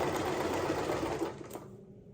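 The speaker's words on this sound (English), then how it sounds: "And then we're just gonna sew down that edge." A sewing machine runs steadily, stitching down a fabric edge on an unpaper towel, its close, even mechanical whir carrying on before slowing and stopping near the end.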